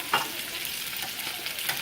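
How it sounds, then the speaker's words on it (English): Pieces of chicken sizzle in a heated frying pan, a steady close crackling hiss with a light stirring scrape near the start, and no talking. "Take your chicken and go ahead and put it in the frying pan once it's all heated up."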